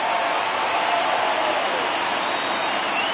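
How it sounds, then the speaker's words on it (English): Baseball crowd noise during a Cincinnati versus Cleveland game as the count runs full at 3-2, a steady broad roar of cheering and clapping that holds at an even level for the whole stretch. "Crowd gets up for the 3-2."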